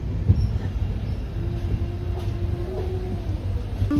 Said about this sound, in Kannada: ಟ್ರೈನ್ ಪ್ಲಾಟ್ಫಾರ್ಮ್ ನಂಬರ್ ಒನ್ಗೆ ಹೋಗ್ತಾ ಇದೆ